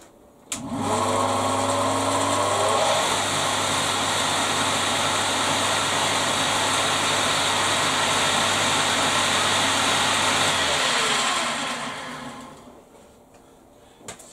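A lathe's electric motor starts up, runs at a steady loud hum with a whirring whine for about ten seconds, then winds down to a stop.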